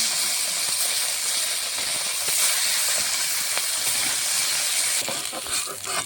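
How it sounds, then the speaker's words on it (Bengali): More bata fish frying in oil, a loud, constant hissing sizzle close up that eases slightly near the end. "এই তেলে বাকি মাছগুলো ভেজে নেব।"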